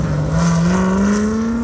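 Buick Grand National engine revving at LS Fest Texas, a loud sustained roar rising steadily in pitch over a short stretch, close and continuous.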